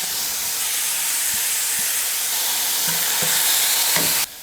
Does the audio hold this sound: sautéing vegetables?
yes